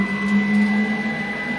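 CNC router run by an SMC5-5-N-N controller moving its axes, a steady close motor whine with a constant tonal hum and no breaks.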